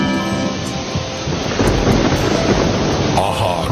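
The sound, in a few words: rain with thunder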